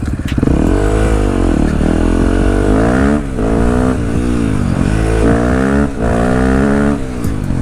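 A KTM 450 motorcycle engine revs hard and continuously while being ridden, loud and close, rising and falling in pitch through repeated accelerations and gear changes.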